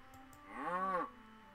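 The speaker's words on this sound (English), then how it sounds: "A mooing sound." A mooing cow phone tone from a Nancy Drew computer game, playing once as a single drawn-out, rising-then-falling moo that lasts about half a second, clear and close against a quiet background.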